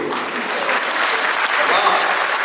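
Loud, steady applause from an audience at a Hindi kavi sammelan poetry gathering, dense clapping close by that holds for the full length, with some voices mixed in.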